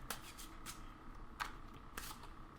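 Tarot cards are shuffled slowly by hand, soft papery riffles and slides recurring at an uneven pace, quiet and close.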